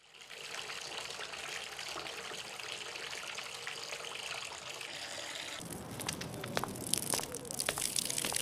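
Water runs steadily from a tap with a continuous hiss while something is washed, the splashing turning rougher and more broken in the last few seconds.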